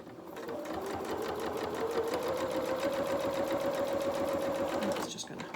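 A sewing machine runs steadily, stitching piping onto a dressing gown, with a continuous fast mechanical whir and needle chatter for several seconds before stopping abruptly.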